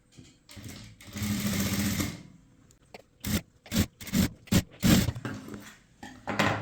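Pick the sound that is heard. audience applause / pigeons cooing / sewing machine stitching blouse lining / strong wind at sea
sewing machine stitching blouse lining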